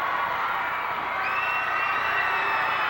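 A Universal Wrestling Federation arena crowd cheering after a standing dropkick, a loud, steady wall of shouts and whoops with no pause.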